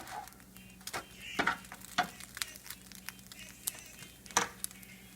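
A quesadilla sizzles and fries quietly in a pan, with a steady low hiss broken by sharp spatula scrapes and taps at irregular moments. The sounds are close and fairly soft, and no one speaks.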